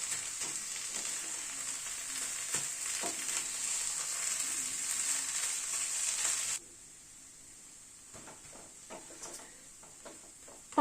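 A spiced filling is stir-fried in a pan, giving a loud, steady sizzle that suddenly drops to a softer hiss. Scattered scrapes and clinks of stirring run through it, close up and without talk.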